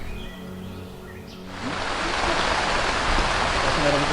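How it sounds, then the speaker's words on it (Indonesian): Rain breaks out over a forest during a mountain expedition, a steady broadband hiss of drops on leaves that swells in partway through and holds loud and even, after a quieter stretch with a faint voice. "akhirnya kita kena hujan dan sekarang airnya lagi ditampung pakai planchet"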